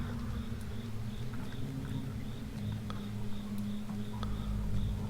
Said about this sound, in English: We have crickets chirping right outside our bedroom window loudly